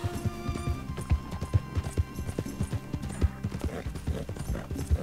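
Horse hooves clip-clop at a walking pace in Red Dead Redemption 2, close and rhythmic over a sustained musical or ambient drone, with harness creaks and a faint snort.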